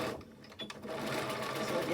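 Sewing machine stitching back and forth over elastic on a fabric face mask, a fast steady mechanical whir after a brief start, fairly quiet and close.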